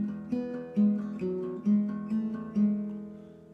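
Acoustic guitar playing the third section of the intro to a song, a sequence of six plucked notes and hammer-ons with ringing sustain, close and moderately quiet, no voices.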